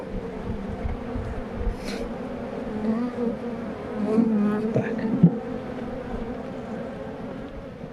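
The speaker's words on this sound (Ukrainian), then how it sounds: "О, тут бджола. Зараз вона агресивна така." A bee buzzes steadily and close by, its drone rising and falling over several seconds against a low background hum.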